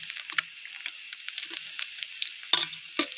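Oil sizzling and crackling in a pan as fish fries crisp, with scattered pops and spits over a steady hiss, close by and moderately quiet.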